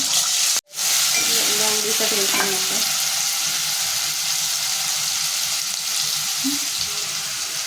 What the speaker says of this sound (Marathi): अद्रक, लसूण, मिरची आणि कोथिंबीरची पेस्ट हे तेलामध्ये परतून घ्यायचे.